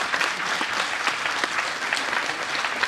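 An audience at a college of forestry breaks into steady, dense applause, many hands clapping together at close range for a few seconds.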